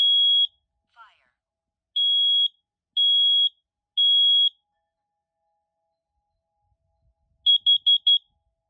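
A Kidde 3OCUDR-V smoke alarm under test gives four loud, piercing beeps spaced about a second apart, then a rapid burst of four short beeps after a pause, heard up close.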